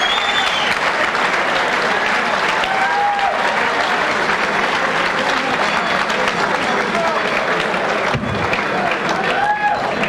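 A boxing crowd applauds steadily at the end of a seven-round match, a dense, continuous wash of clapping and cheering heard up close throughout.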